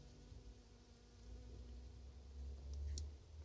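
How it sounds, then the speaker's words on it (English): A honeybee buzzes among flowers on an allotment, a faint, steady drone with low outdoor rumble underneath and no talking. "Mr. Honeybee."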